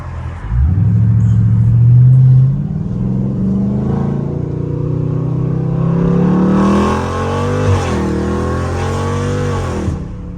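A Dodge Scat Pack in sport mode revs hard and climbs through gears, its loud close engine note rising, dropping at each shift, then rising again with no talking.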